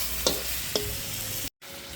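Rat adobo fries in cooking oil over a native-style cooking setup, a dense close sizzle with two sharp spatter pops early on and a brief dropout before the frying hiss returns.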